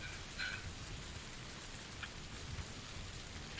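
Steady rain pours down in a PUBG match, an even wash of drops on the ground with a couple of faint, brief game tones over it and no talking.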